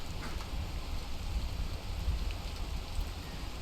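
Steady rain falls in a video game set on a mountain, a continuous dense hiss and patter close around, alone with no talk or other sounds.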